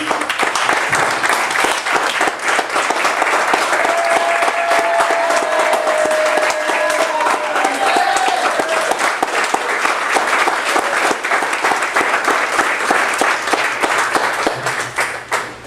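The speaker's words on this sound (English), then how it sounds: "I'm going to ask everyone to stand up and give Dr. Brown a round of applause" A standing audience at the World Physique Federation USA award session applauds Dr. Brown, with loud, dense, sustained clapping and a few cheers running the full length without pause before tapering at the end.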